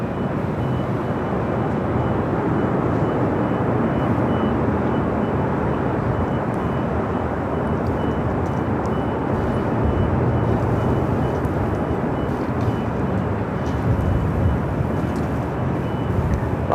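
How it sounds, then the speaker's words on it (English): An Avianca A380 Neo airliner taxis toward runway 24 left at LAX, a steady, loud jet-engine roar and broadband rush that holds the whole time with no voices. "Avianca A380 Neo, and now heading over to 24 left"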